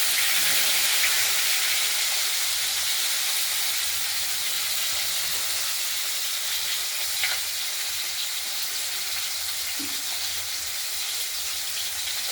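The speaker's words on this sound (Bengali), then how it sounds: "ফোড়নটা ভাজা হয়ে যাচ্ছে, আলুগুলো ভাজা ভাজা করে নেব।" Potatoes frying in spiced oil in a pan for a rohu fish curry, a steady close sizzle and hiss with faint stirring scrapes, no talking.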